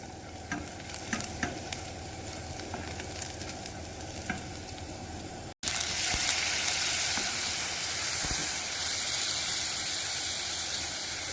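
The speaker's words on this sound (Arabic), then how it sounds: "غير الذوب لي الزبده" Butter sizzles steadily in a hot pan, the frying hiss jumping noticeably louder after a brief break midway.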